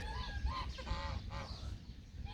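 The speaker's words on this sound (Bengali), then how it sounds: "হাঁস মুরগি সবই ফালতেছে এখানে" Farm poultry beside a date orchard, with several loud, nasal honking calls in quick succession from nearby fowl, then quieter background.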